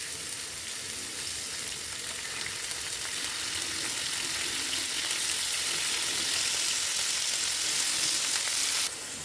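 Beef sizzles steadily in hot oil in a pan, a dense, even crackling hiss that continues without a break for about nine seconds before dropping slightly at the very end.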